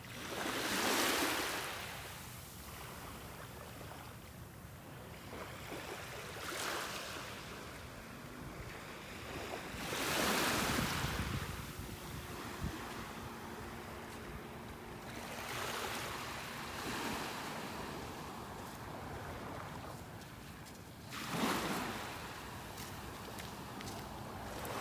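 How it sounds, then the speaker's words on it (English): Ocean waves lap onto the beach at Delnor-Wiggins Pass State Park in Naples, Florida, each soft wash rising and fading every few seconds in a steady rhythm, with light wind and no voices. "listening to the waves lapping on the shore"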